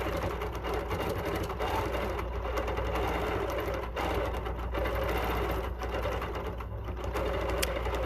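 A Bernina Q16 sewing machine runs continuously during free-motion quilting, a steady close mechanical whir and rapid needle and presser-foot chatter that holds an even level throughout, with no talking.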